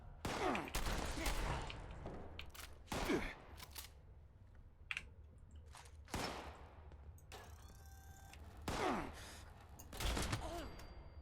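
Sniper rifle shots crack in the video game Fallout 76, several sharp loud reports spaced a second or two apart amid quieter game noises and clicks.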